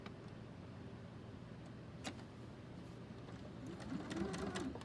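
A sewing machine stitches a quarter-inch seam on fabric mittens, a steady quiet motor whir with a rapid needle chatter that builds slightly near the end, heard alone and close.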